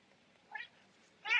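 A cat meows twice, a short soft call followed by a louder, longer one, close by in an otherwise quiet room.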